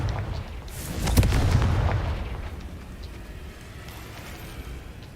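A Confringo spell explosion in the Hogwarts Legacy video game: one loud, booming blast with a sharp onset that swells and rumbles for about a second, then fades into a lingering low roar.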